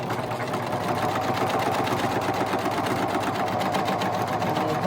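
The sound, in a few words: serger sewing machine running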